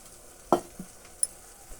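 Telangana-style sarvapindi dough on the stove with oil added: a brief, close sizzle and stirring scrape, then a couple of faint clinks against the pan.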